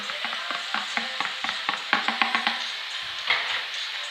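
Saltfish for Jamaican ackee being tipped into a pan and stirred, with a soft steady sizzle under repeated clicking scrapes of a spoon against the pot, close and moderately quiet.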